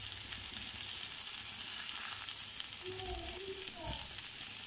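Tandoori chicken pieces sizzle steadily in a pan over a gas flame, a continuous near frying hiss with brief louder crackles and scraping as the pieces are flipped; no one speaks.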